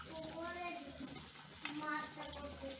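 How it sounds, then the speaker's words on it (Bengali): Teler pitha cakes fry in hot oil with a steady sizzle and occasional stirring clinks, while someone talks over the cooking. "পিঠাগুলো আমরা এভাবে ঠিক ভেজে নিব।"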